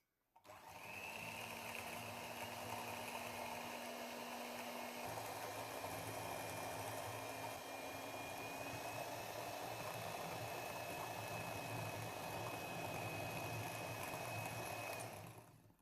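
Electric beater fitted with a single dough hook mixing dough: a steady motor whir starts abruptly, runs evenly at moderate volume for about fifteen seconds, then cuts off, with no talking.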